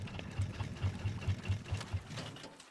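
In the game Raft, the raft's engine chugs with an even, rapid mechanical pulse. The sound is quiet and close, with no talk over it.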